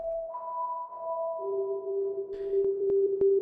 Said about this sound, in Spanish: ahí solamente estamos escuchando la reverberación